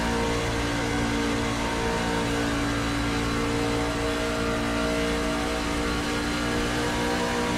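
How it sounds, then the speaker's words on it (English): Race truck engines in an eSports simulator race at Kansas drone loud and steady, a dense layered roar with engine pitch climbing slightly as a truck catches the draft, no voices over it. "we can hear those RPMs go up just a little bit as he catches the draft of Jeremy Paris"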